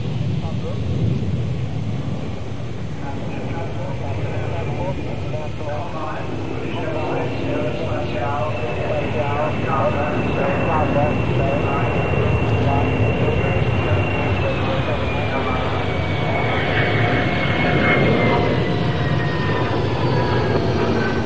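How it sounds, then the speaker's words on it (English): A Boeing 737-300 jet airliner, a stretched 737-200, passes at the 1984 Farnborough air show, its engine roar rising and whining with a shifting tone over a steady rumble while someone talks over it. "Boeing's 737-300 is that company's latest plane"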